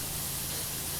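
A pressure washer jet in PowerWash Simulator sprays a bathroom in one continuous, even, broadband hiss that stays loud and steady throughout, with no pauses and no voices.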